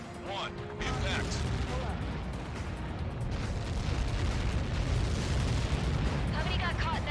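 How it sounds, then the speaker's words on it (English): A large strike detonates in Ace Combat 7 with a deep, sustained rumbling blast and roar, loud and continuous, while radio voices talk over it. "How many got caught in that explosion?"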